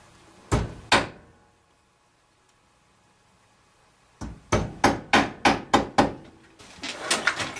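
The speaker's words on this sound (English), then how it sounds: "We're straightening out some nails here." Hammer striking rusty nails to straighten them for a rustic shelf, loud close metallic blows: two hits, a long pause, then a quick run of about six steady strikes followed by lighter rapid tapping.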